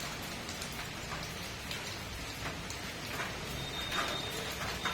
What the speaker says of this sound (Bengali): বৃষ্টিটা ভালো জোরেই হচ্ছে, আওয়াজও পাচ্ছ নিশ্চয় তোমরা।